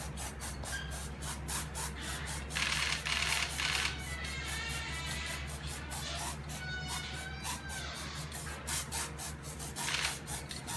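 Shapley's Show Touch-Up sprayed onto a horse's foot, repeated short hissing bursts in a fairly regular rhythm, close but not loud, over a steady low background hum.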